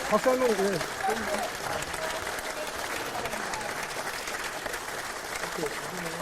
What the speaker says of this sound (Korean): 예, 박수 한 번, 예.